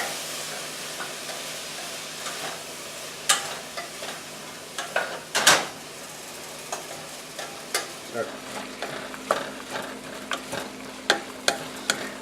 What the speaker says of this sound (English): As we sweat the vegetables, you want to kind of turn them.